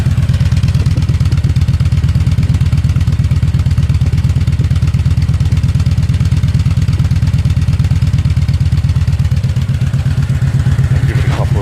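Kawasaki Vulcan motorcycle with a modified exhaust idling steadily, a deep, throaty, loud rumble pulsing evenly and close by throughout.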